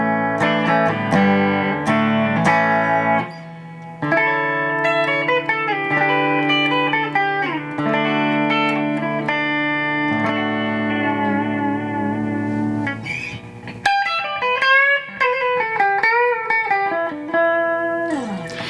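An electric guitar on its clean bridge pickup in humbucker mode, played through an Acoustic Control Core 117 combo amp, rings out with chords and picked melodic lines, bright and sustained, with a brief pause and no talking.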